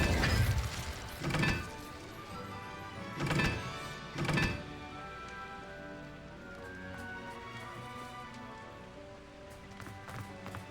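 The Incendio fire spell is cast in Hogwarts Legacy, giving a few sharp whooshing bursts early on, followed by a softer crackling, ringing tail that fades under light game ambience, with no speech.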